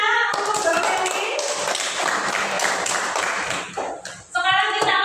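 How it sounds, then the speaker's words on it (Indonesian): Children clap their hands together in a classroom, a burst of quick, dense claps that dips briefly before resuming, with some voices mixed in. "Tepuk tangan anak-anak untuk Mbak Ferry."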